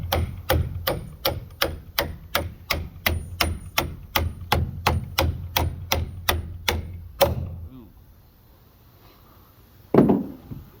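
Rapid bursts of an impact wrench driving nuts onto bolts in a wood-framed building, about twenty sharp hammering pulses in a steady rhythm, loud and close, then a quieter pause broken by one knock near the end.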